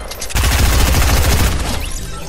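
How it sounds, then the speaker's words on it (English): Rapid burst of automatic gunfire in the video game Fortnite, a loud, close, sustained rattle of shots lasting over a second before trailing off. "Oh, I hear shooting."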